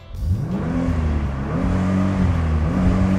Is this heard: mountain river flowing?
no